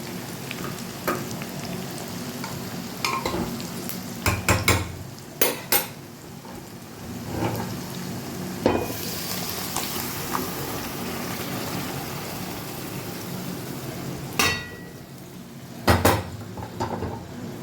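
Ghugni, a pea curry, tipped into a hot pan with ginger and stirred, a soft sizzle under repeated sharp scrapes and clanks of a metal spoon against the pan, coming in irregular bursts.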